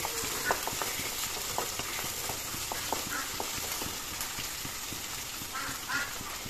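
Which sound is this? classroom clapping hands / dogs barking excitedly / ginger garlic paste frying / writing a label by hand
ginger garlic paste frying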